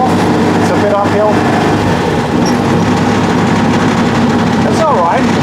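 A 1956 Citroën AZU engine pulling in third gear, a loud, steady, rough, noisy drone heard from inside the vehicle, with a person talking over it.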